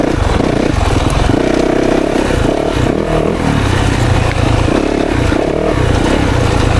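A 2024 Yamaha YZ 450FX dirt bike engine revs loudly and continuously on a woods trail ride, rising and falling with throttle blips, close to the rider with no talk.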